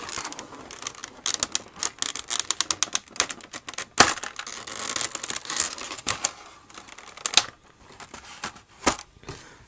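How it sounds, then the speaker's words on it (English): Plastic packaging crinkles and crackles as an S.H.Figuarts Sieg action figure is pulled out, with dense, irregular rustling bursts close up and no talking. "let's get him out of the plastic here"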